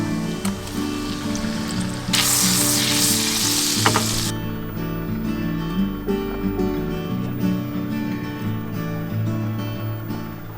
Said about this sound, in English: you cook it on a pan on really low heat with the lid on, and it basically just makes its own little oven